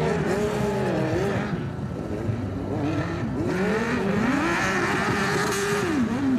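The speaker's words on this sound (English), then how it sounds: "I think he's going to struggle with that big engine through the moguls." A big Harley-Davidson motorcycle engine roars continuously at a hill climb course with moguls, revving up and down in repeated surges, loud and close with no talk over it.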